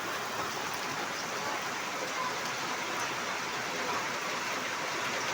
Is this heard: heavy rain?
yes